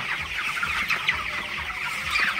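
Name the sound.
broiler chickens clucking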